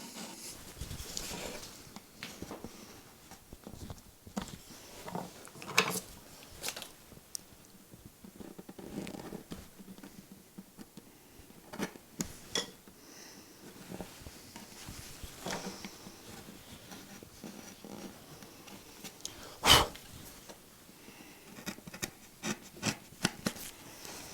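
Hand carving of a stylised tree in wood, the blade worked backwards and forwards to clean up a strong edge: quiet, irregular scraping and rubbing strokes with occasional sharper cuts, close by, with no talking.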